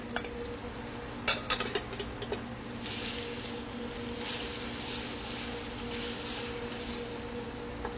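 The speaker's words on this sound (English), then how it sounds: "We're going to give this a good stir." Tomato and peppers being stirred in a pan, a few spoon clinks and scrapes early on, then a soft steady sizzle and shuffling of the mixture, close and quiet with no talk.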